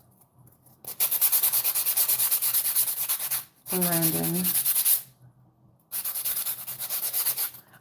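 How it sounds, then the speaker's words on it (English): Fingernails rasped with a nail file in loud, rapid back-and-forth strokes, two long sustained bursts with a brief pause between, close to the mic. "I apologize to anybody who hates the sound of filing."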